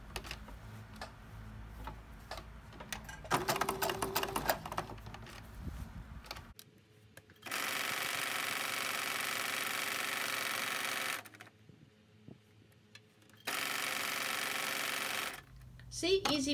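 A sewing machine stitches long straight quilting lines on a quilt-as-you-go ticker tape pillow cover made from fabric scraps. Two steady, sustained runs of whirring follow an earlier stretch of ticking and talk.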